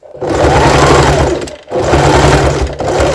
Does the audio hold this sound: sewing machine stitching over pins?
yes